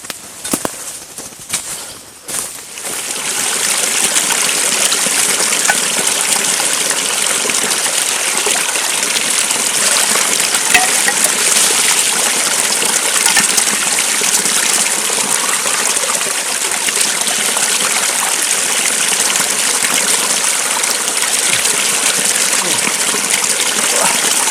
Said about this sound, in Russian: Там внизу ручей должен быть.